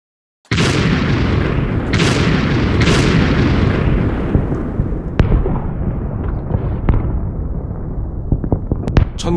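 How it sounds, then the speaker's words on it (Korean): Artillery barrage for a radio drama, 552 guns opening fire across the 38th parallel at 4 a.m. on 25 June 1950: a dense, continuous roar of booms and blasts with repeated heavy detonations, loud and sustained, fading slightly toward the end with sharp cracks. "552문의 대포가 불을 뿜었다."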